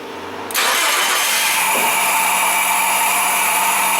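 A Nissan Frontier pickup engine cranks briefly and catches, then settles into a loud, steady fast idle up close. No talking is heard.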